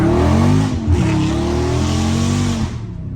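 A Dodge Scat Pack drifts through a turn, its tires squealing loudly and continuously under a roaring engine, the squeal bending in pitch before easing off at the end.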